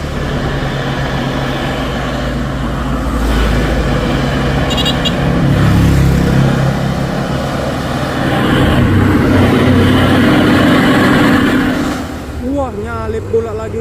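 A Fuso 6x4 HD truck rated at 220 PS labours up a hill, its engine droning loud and close with rising and falling strain, alongside background voices and other traffic.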